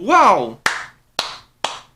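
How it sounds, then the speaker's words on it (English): A slow clap follows a short spoken remark: three sharp, loud single claps spaced about half a second apart, each ringing briefly before the next. "Slow clap for the guys at corporate."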